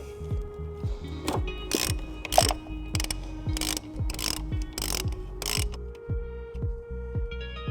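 A ratchet with a 15mm socket loosens the nut on a car battery terminal, its pawl clicking in quick repeated strokes, close and clear, with brief pauses between pulls.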